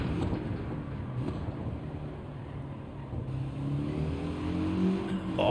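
Race car engine in Gran Turismo 7 rising steadily in pitch as it accelerates, a continuous loud drone with climbing harmonics toward the end, heard alone.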